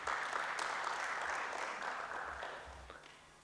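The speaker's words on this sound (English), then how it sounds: "Another round of applause" Audience applause at an academic psychology session, a soft, even patter of many hands that gradually tapers off.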